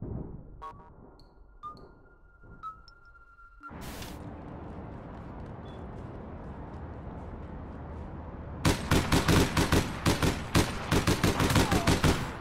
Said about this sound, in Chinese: 讨厌的狙击枪